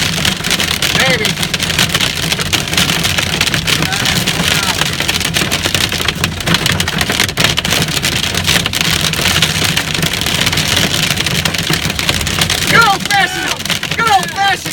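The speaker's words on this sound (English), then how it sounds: "Good old fashioned hailstorm." Hail rattles down on a road during a storm in Plainfield, Indiana, a dense, continuous clatter of stones about an inch across striking pavement, close and loud, with some voices mixed in.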